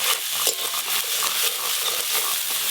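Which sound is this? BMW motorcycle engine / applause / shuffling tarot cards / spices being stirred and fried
spices being stirred and fried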